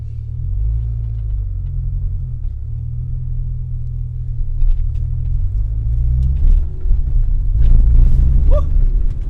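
Renault Clio engine idling after throttle body work, cold: a steady low rumble close by, rising slightly and growing louder toward the end, with faint incidental noises over it.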